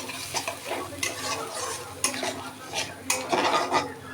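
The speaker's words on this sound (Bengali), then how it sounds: "দিয়ে ভালো করে নেড়ে দিচ্ছি" Yogurt being stirred into okra in a pan on low flame, with repeated metal spoon scrapes and clinks against the pan over a gentle sizzle, close and without speech.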